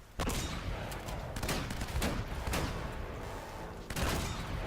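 Repeated shotgun blasts boom through a firefight in the video game Uncharted: Drake's Fortune, several loud broadband shots spaced about a second apart with dense battle noise filling the gaps.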